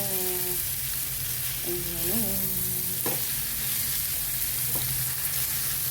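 Sardines sizzle and crackle steadily in hot oil in a pan, a continuous close frying hiss with occasional stirring noises.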